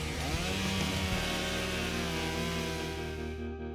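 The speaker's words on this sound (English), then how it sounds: "Got my chainsaw." A chainsaw runs steadily at close range while carving wood, its engine a loud, continuous buzzing drone with a constant pitch and no pauses, filling the whole moment with no talking.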